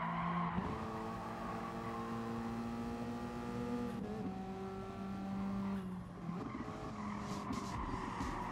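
A race car in Gran Turismo Sport at Fuji Speedway, FIA N200 class, drones loudly and steadily throughout, its revs dipping and climbing again around two gear changes, with tire squeal mixed into the constant engine roar.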